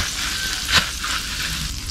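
Margarine melting and sizzling in a pan over a village cooking fire in Sri Lanka, a steady soft hiss with one brief louder crackle near the middle, fairly close and without talk.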